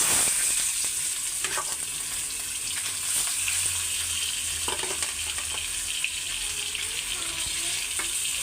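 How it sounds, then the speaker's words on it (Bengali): Spice-coated cut fish fry in hot oil in a wok, a continuous loud sizzle with occasional stirring scrapes and clinks throughout. "মাছগুলি আমি এখন ভাইজা নিই"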